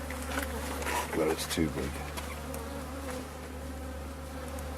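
Honeybees buzz steadily at an opened beehive, a close, continuous droning hum with a few louder swells as insects pass near, while people talk quietly over it.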